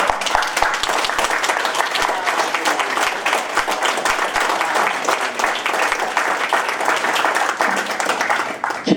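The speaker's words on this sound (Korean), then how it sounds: "할 일 없으시면 박수 주세요." Applause from a large audience at a Daegu citizens' forum, dense and sustained throughout, loud and steady with individual claps crowded together.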